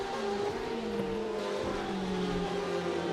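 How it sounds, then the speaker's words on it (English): A Porsche race car in rFactor 2 at the Kyalami circuit drones past with a steady, sustained engine whine, its pitch sliding slightly as it goes by. "And through goes the Porsche."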